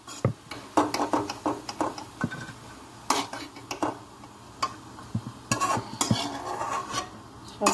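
Fried onions (beresta) made in ghee are scooped out of a pan into a bowl, with repeated scraping and clinking of a utensil against metal and a faint sizzle underneath, irregular and close.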